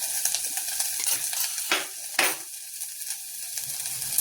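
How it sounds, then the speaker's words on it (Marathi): Crushed green chilies for Maharashtrian thecha sauté in a pan with a soft, steady sizzle, punctuated by a couple of scraping stirs of a spatula against the metal, fairly quiet and without talk. "ह्याला आपल्याला छान असा परतून घ्यायचा आहे"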